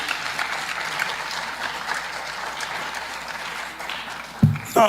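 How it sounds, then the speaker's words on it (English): Colloquium audience giving team members a round of applause, a full, sustained rush of clapping that fills the room and eases slightly before a voice breaks in right at the end. "let's give, my team members a round of applause."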